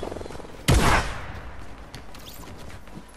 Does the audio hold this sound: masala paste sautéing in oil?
no